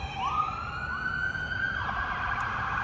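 A police car siren sweeps up and down in a steady wail, fairly close and continuous as it passes along a street, with traffic rumble underneath.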